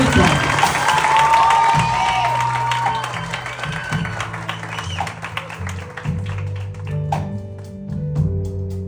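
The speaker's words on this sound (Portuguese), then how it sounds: "Salve de palmas." A round of applause for someone receiving a tribute plaque at a ceremony, dense clapping at first that thins into scattered claps with voices and thumps beneath, fading over several seconds.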